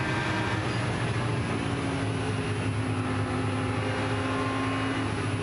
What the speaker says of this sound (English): Let's ride on board with Ricardo and have a listen.